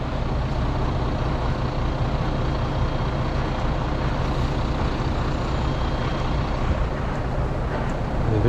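A heavy recovery winch, fed by an extra air line and a cable run through a snatch block, hauls a 26-ton truck out of a ditch in the UK, heard as a loud, steady mechanical drone that continues unbroken throughout.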